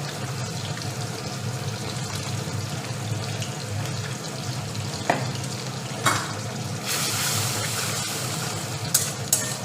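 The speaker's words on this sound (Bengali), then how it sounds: "দিয়ে এবার মশলাটাকে কষাতে হবে, ততক্ষণ মশলাটা কষিয়ে নিই" Spice masala for a bottle gourd and prawn dish fries in a pan, a steady soft sizzle with occasional scraping stirs and clinks of the spoon, close and continuous.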